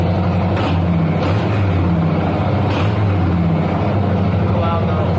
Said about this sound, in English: I'll give the bike a little mini rev.